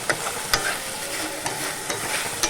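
Food being stirred and mixed as it fries in a pan with oil, coconut and mustard: a constant close sizzle broken by regular spoon scrapes and taps about every half second, with no voices.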